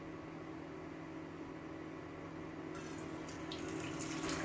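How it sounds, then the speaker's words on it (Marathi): Water pours in a steady, close trickle off soaked millet grain into another vessel, running evenly without pause; no voices. "आता हे वरचं पाणी अलगद आपल्याला दुसऱ्या भांड्यामध्ये काढून घ्यायचंय"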